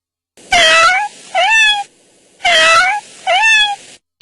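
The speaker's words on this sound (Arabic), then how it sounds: "قطة" A cat meows four times in two pairs, each a loud close drawn-out call followed by a shorter one, with silent gaps between.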